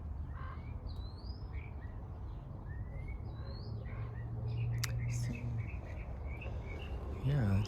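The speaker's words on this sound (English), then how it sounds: "So that bird sings so pretty" A songbird in a spring garden gives a series of short, high chirps and whistled phrases, moderately distant, over a steady low outdoor rumble and rustle.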